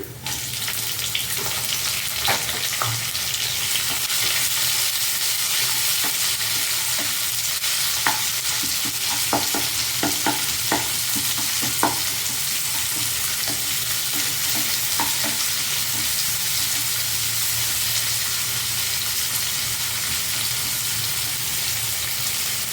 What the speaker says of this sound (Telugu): ఇప్పుడు నేను ఉల్లిపాయలు వేస్తానండి